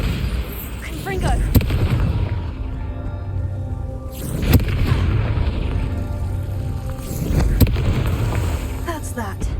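Spell blasts from Bombarda and Confringo in the Hogwarts Legacy video game, with three heavy booming explosions a few seconds apart that ring out over game ambience, and a voice casting between them.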